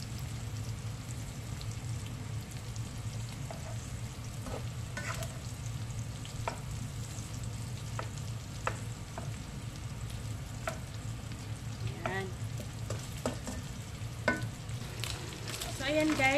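Pork humba browns in hot oil in a pan, sizzling steadily with a low continuous fry, scattered sharp pops and occasional scraping stirs, close and even throughout.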